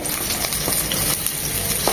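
Chopped onion frying in oil for a chicken and chickpea-lentil curry, a steady broadband sizzle running throughout with faint crackles, close and fairly loud, no voice present.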